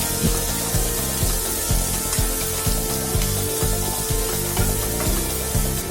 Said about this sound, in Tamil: இப்போ இதோட நறுக்கி வச்ச வெங்காயத்தை சேர்த்து நல்லா வதக்கிடலாம்.